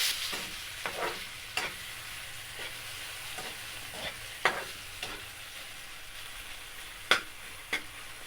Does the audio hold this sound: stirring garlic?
yes